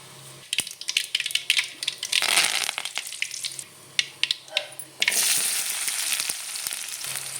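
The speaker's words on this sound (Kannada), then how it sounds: "ಸಾಸಿವೆ ಜೀರಿಗೆ ಒಂದು ಸ್ವಲ್ಪ ಚಟ್ಪಟ್ ಅನ್ಲಿ ಅವ" Mustard seeds and cumin splutter in hot oil for a Kannada dhaba-style peas curry, with sharp crackling pops scattered irregularly and bursts of louder sizzling, close and without talk.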